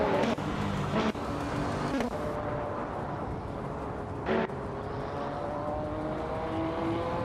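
Engine of a Ferrari 288 GTO Evoluzione race car in a racing game, a steady, fairly faint hum with a few sharp clicks and a short louder swell, with a commentator's voice running over it.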